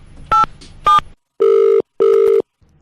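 A telephone sounds two short dial tones followed by two longer steady tones, loud and clear with silent gaps between them and no talk.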